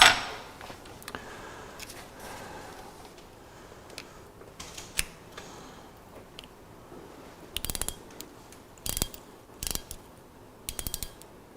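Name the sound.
ratchet torquing a dental implant in guided surgery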